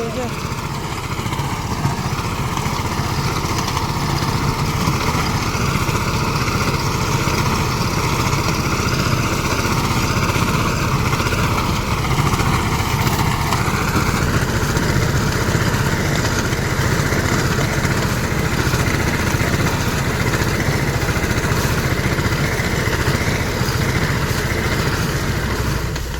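Steady engine drone from a tractor working a partly harvested field, loud and continuous throughout with only a slight change in pitch midway.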